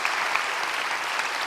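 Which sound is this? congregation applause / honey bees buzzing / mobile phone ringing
congregation applause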